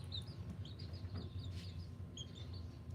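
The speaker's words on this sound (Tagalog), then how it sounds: "Naungulit na tong sisiw" A chick cheeps persistently in a home kitchen, its thin, high calls repeating in quick bursts, faint and fairly close against a low background hum.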